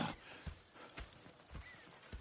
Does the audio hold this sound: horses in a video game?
yes